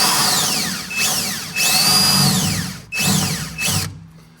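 A power drill runs in repeated bursts, its motor whine rising and falling as it spins up and slows, loud and close, during work on a 1971 El Camino.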